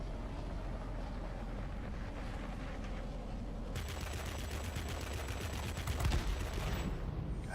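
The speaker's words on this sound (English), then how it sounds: "The 20mm cannons are just my favorite cannons." Rapid bursts of 20mm cannon fire from a German Messerschmitt Me P.1092 fighter in the World of Warplanes game, with a steady roar of engine and wind throughout and the gunfire thickening into a denser fusillade in the second half.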